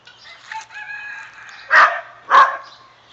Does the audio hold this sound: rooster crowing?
yes